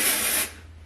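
Dry shampoo sprayed onto hair roots makes a close, hissing burst from an aerosol can that lasts about half a second and cuts off sharply, followed by quiet.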